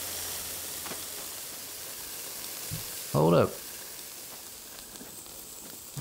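A short sizzle from the survival video game Grounded, a brief burst of hiss that rises out of quiet background noise midway through and cuts off after about half a second.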